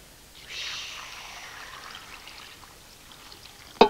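Water poured into a soup pot in a kitchen gives a steady hissing stream that starts after a brief pause and trickles on at moderate level, ending with a sharp knock of the pot.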